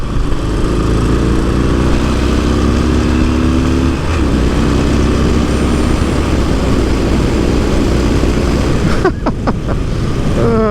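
A Harley-Davidson Sportster 48 motorcycle hums steadily at speed with strong wind rush, its engine tone shifting slightly midway, then settling near the end.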